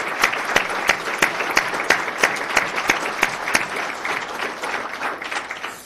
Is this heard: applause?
yes